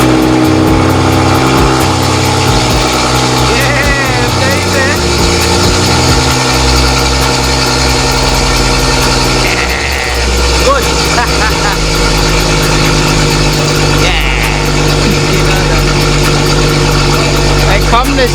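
A BMW M135i engine fires up and settles into a steady idle after a rocker cover gasket change, with a loud, continuous low rumble. People talk over the running engine.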